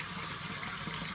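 Tap water runs steadily into a sink while it heats up for a wet shave, making a close, continuous rushing splash with no pauses.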